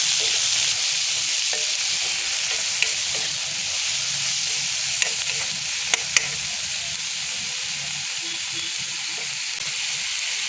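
Spinach leaves sizzle and fry in a pan while being stirred for a Magur fish curry, a steady bright hiss running throughout with a few sharp scraping clicks from the spoon.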